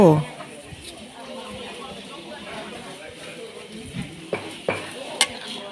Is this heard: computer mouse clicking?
no